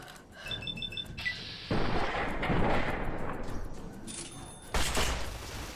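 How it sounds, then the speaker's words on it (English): Grenade blasts in the Fallout video game: two heavy, booming explosions land a few seconds apart over a loud, continuous din of combat noise, with crackling debris and a sharp high ringing tone in between. "Are those grenades?"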